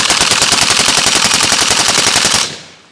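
A Riley Defense Krink rifle in 7.62x39 empties a full magazine in one loud, close, rapid string of shots lasting over two seconds, then cuts off into a short fading echo.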